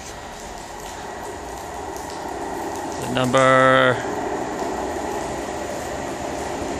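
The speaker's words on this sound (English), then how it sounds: "It's a full coach train going to Peyton" A full-coach Great Western Railway train passes at Teignmouth with a steady low rumble, and a loud two-tone horn blast of about one second rings out midway. People talk nearby.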